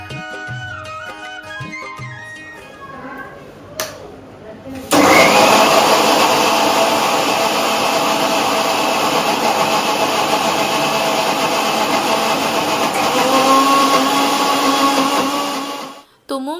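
A mixer grinder whirs loudly and steadily for about eleven seconds, grinding peanuts and gram flour, then stops abruptly; quiet background sounds precede it.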